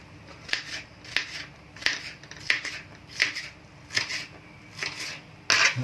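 Ingredients for Thai pad kra pao are snipped with scissors in a steady rhythm, each crisp cut landing about every half second, close and clear without talking.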